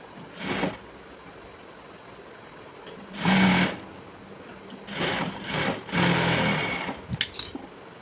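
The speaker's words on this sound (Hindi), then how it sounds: "हम यहाँ पे सिलाई लगा देंगे किनारे किनारे" A sewing machine stitches a pocket seam on palazzo trousers in several short bursts of rapid whirring separated by pauses, the longest run near the end, close and steady.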